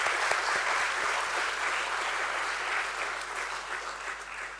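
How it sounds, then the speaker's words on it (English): Audience applause at a stock-exchange share listing ceremony for a property developer, sustained even clapping from a large crowd, loud and continuous throughout with no talk over it. "let's give a huge round of applause for the resilient and incredible journey of"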